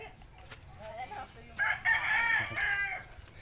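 A rooster crows once, midway through, over faint chicken clucks and light background noise at a poultry farm in Cadiz City, Negros Occidental.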